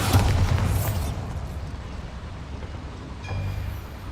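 A Bombarda explosion spell from Hogwarts Legacy goes off with a loud, deep boom at the start, then rumbles and fades; a second, smaller thump follows near the end.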